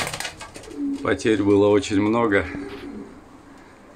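Pigeons in a breeding flock coo in a low, warbling burst, close by, while someone speaks over and around the calls.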